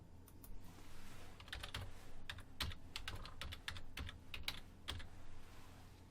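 Keys clatter on a computer keyboard as a company name is typed into a text box, a quiet, close, uneven run of taps without any speech.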